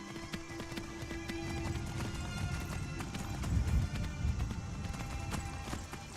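Horse hooves clip-clop at a steady trot while riding on horseback in Skyrim, with a brief whinny and ambient game background, moderately close and fairly soft.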